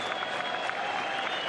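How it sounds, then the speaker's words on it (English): Stadium crowd at Al Lang Stadium applauding steadily after a goal at a Tampa Bay Rowdies versus Charleston Battery soccer match, a dense, even wash of clapping from many fans with no break. "he should get a good round of applause from the fans here"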